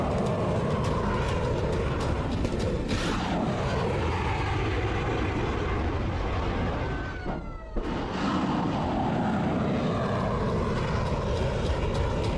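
Fighter jets launch off the bow of an aircraft carrier, and a roaring wall of jet engine noise fills the air continuously. It dips briefly once before surging back at full strength.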